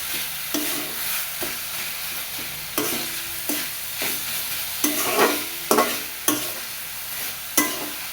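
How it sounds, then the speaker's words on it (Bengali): Greens frying in a pan for a mixed-vegetable shukto, with steady sizzle and a series of sharp spatula scrapes and stirring knocks recurring every second or so, close and alone. "শাকটা আমার খুব সুন্দর মতো ভাজা হয়ে গেছে"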